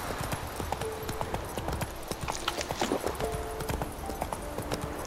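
Horse galloping in The Witcher 3 video game, a quick rhythmic clip-clop of hooves close by, steady throughout with game ambience behind it.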